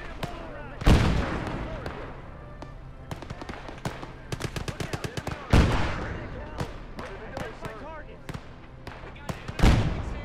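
Gunfire in a WWII video game set among hedgerows: heavy booming shots land every few seconds, with quick rattling bursts of automatic fire in between. A voice talks over the action.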